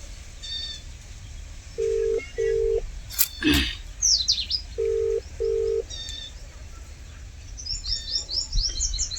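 A phone keypad sounds two pairs of short dialing beeps, a few seconds apart, over an outdoor background of chirping birds, with a brief whooshing noise between the pairs.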